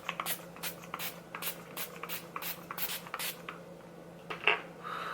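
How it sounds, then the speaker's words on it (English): A series of short, bright hissing bursts from a makeup setting spray bottle repeat in quick succession, then stop, followed by a faint clink. "set it all with the Urban Decay All Nighter Makeup Setting Spray"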